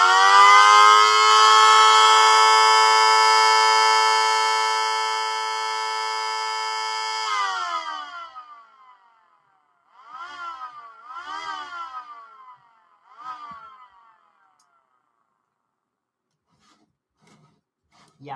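A 3D-printed mini siren, Model 2T, with a resin-printed rotor, gives a loud, steady multi-tone wail for about seven seconds and then drops off abruptly as it winds down, followed by someone talking.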